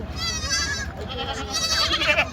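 Goats at a goat market in Kalamnuri, Hingoli, bleating loudly and close, with two long wavering bleats over a crowded background murmur.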